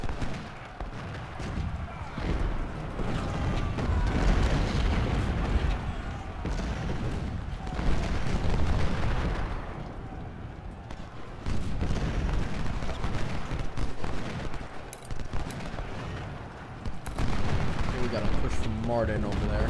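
Muskets and artillery in Ultimate General: Civil War, Battle of Shiloh, keep up a continuous rumbling barrage of overlapping shots and booms. Someone talks over the firing throughout.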